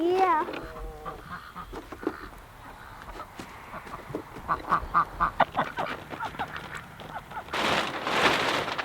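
Ducks quack repeatedly in a garden, several close, loud calls scattered among chickens clucking and people chatting nearby.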